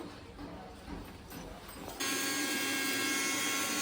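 A kitchen mixer grinding dry red chillies into powder starts up partway through, a loud steady whirring roar that continues to the end after quieter handling noise.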